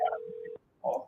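A CallTools web phone places an outgoing call, giving a short electronic ring tone: one steady tone under a brief burst, a short pause, then another burst, close and clear with no talk.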